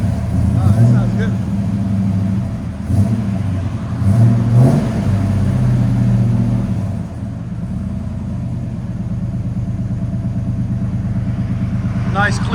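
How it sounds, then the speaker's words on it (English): 1971 Ford F100 Ranger with a 360 V8, headers and Flowmaster Flow FX exhaust idling close by, a steady deep rumbling burble with a few brief throttle blips while people talk over it early on. "Let you guys hear it on idle. With Flow FXs by Flowmaster."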